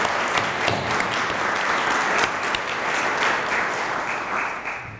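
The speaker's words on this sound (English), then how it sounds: "I'd like to give Melanie and Ernie both a round of applause just to show our appreciation for both of them" A crowd claps at a veterans appreciation ceremony, dense sustained applause filling the room loudly before tapering off near the end.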